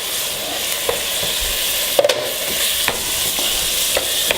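Beef stroganoff ingredients being stirred in a hot pan: a steady broadband sizzle with occasional scraping strokes of the spoon, close and moderately loud, no talking.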